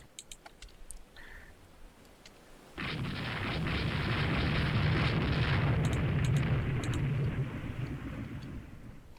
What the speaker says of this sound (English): That is a torpedo.